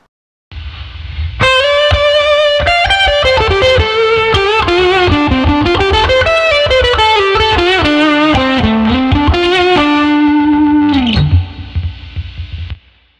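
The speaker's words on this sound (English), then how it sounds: "with these two pedals, we're creating a lead guitar sound you can use in solos." Electric lead guitar driven through two stacked high-gain distortion pedals plays a sustained, fast solo line with bends, loud and continuous for about ten seconds before a final held note drops away.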